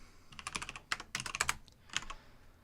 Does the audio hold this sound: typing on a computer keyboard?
yes